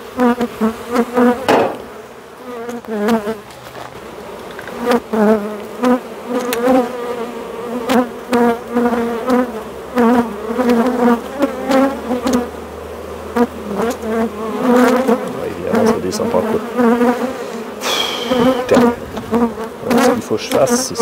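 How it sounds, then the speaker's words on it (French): Honeybees buzz loudly and steadily around an open hive while a beekeeper cages the queen, a dense close drone with occasional sharp knocks and taps cutting through. "On va descendre les abeilles."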